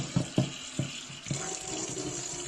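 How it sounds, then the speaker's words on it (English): Warm tap water runs steadily into a sink while hands are washed under it, with a few brief splashes and knocks near the start over a continuous hiss. "So first things first, I'm going to wash my hands."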